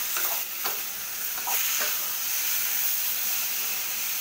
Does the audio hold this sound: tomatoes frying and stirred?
yes